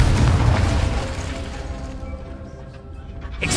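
The Confringo spell in Hogwarts Legacy erupts in a loud, broad fiery blast right at the start, then a rumbling crash decays and fades over a few seconds.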